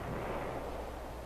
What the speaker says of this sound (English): one battery of 155-millimeter guns was preparing to register and commenced firing on Tinian